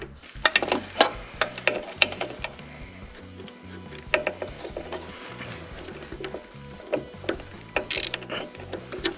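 A half-tightened hose clamp being loosened, close irregular mechanical clicking and ratcheting in short bursts with small knocks between them, no talking.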